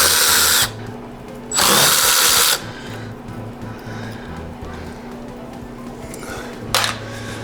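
A power drill whirs on removing 6mm bolts from a Porsche 914 dashboard, two loud bursts near the start and a short one near the end, separated by quieter metallic handling and low background hum.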